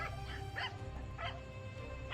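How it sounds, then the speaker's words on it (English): Several dogs bark and yip at night in short repeated bursts, somewhat distant and moderately loud, the barking coming in uneven clusters. "Dogs are going nuts."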